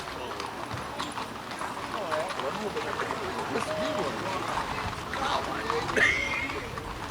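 A stallion's hooves clip-clop steadily on the ground beneath people talking nearby, with outdoor background noise.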